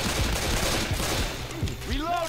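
Rapid gunfire in the zombie shooter game Left 4 Dead 2, a quick burst of overlapping shots mixed with game effects and a brief rising electronic sweep near the end.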